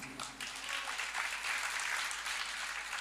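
An audience claps together through a spiritual discourse by a Jain acharya in Rishabh Vihar, Delhi, a dense, sustained burst of applause at moderate distance that holds steady for several seconds.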